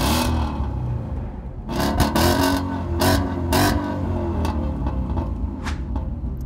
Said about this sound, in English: it has a cat-back exhaust system